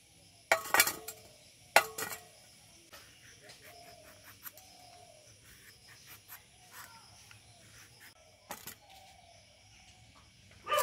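A knife cuts pointed gourd (potol) on a plate: a few sharp clinks of metal on the plate stand out over quieter scraping and tapping, with no voices.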